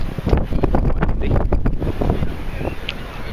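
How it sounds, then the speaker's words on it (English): Heavy wind buffets the microphone in loud, rumbling gusts throughout at a supermoto race event in Cahors, with a faint voice partly buried beneath it. "Quite windy."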